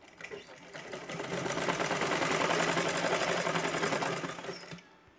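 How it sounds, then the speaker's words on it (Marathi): Sewing machine stitching fabric from the reverse side for a bag made from old clothes, a steady fast whirring chatter that builds up, runs continuously for a few seconds, then winds down and stops, heard close and alone. "उलट्या साईडनं आपल्याला शिलाई मारायची आहे"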